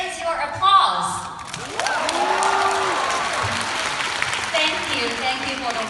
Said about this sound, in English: Where is your applause?